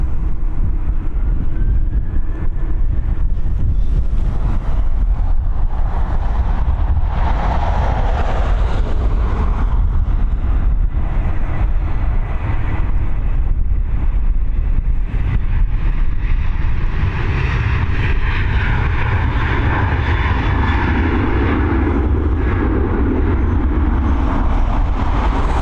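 An airliner taking off from Dublin Airport, bound for Brussels, gives a loud, continuous jet roar that swells and shifts in tone as it climbs away, with no voices over it.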